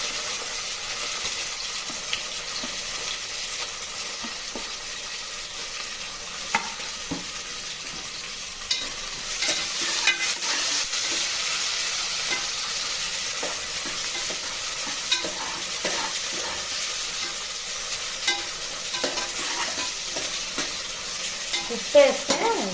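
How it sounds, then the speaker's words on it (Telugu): Sliced onions and curry leaves sizzle steadily in hot oil in a pan, a constant close frying hiss broken by occasional stirring scrapes and clicks, with no talking. "నూనె కాగిపోయింది. ఇప్పుడు ఉల్లిపాయలు వేసేసుకుందాం. ఉల్లిపాయలు, కరివేపాకు, కరివేపాకు ఒకటిగా వేసేసుకుని"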